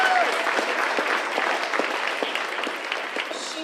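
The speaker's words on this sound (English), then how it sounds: "two other special people on staff at the Senior Center who need a round of applause is Julie Washburn" A crowd claps steadily and warmly at a senior center's annual meeting, dense applause filling the room from start to finish without speech.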